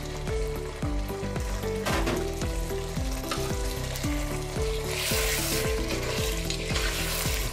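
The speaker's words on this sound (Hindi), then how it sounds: "प्याज शामिल करने के बाद अच्छी तरह हम इसको मिक्स करेंगे और भुनाई करेंगे।" Onions are mixed and fried in oil for beef biryani, a constant crackling sizzle with faint stirring scrapes, heard under a loud repeating background melody that runs throughout.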